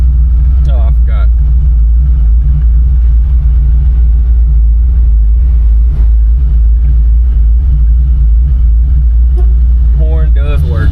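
A 1974 Chevrolet Camaro Z28 engine drones loudly and steadily while driving, a deep low rumble filling the whole stretch, with brief bursts of a voice over it near the start and end.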